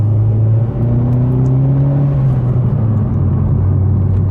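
Vauxhall Corsa VXR with a Direnza aftermarket exhaust accelerating on the road, a steady loud droning engine note whose pitch climbs and then settles, heard from inside the car with no talking.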